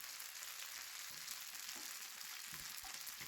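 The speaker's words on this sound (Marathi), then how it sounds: "हे वडे आपण मस्त शॅलो फ्राय करून घेणार आहोत" Poha and methi vadas shallow frying in oil in a pan: a steady, dense sizzle that is close and continuous, with faint occasional bumps from the pan and no voices.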